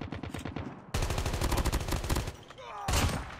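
SKS rifle fire in Call of Duty Mobile sounds as loud, rapid game gunshots, one quick burst and then a denser run of cracks with a final heavy blast near the end.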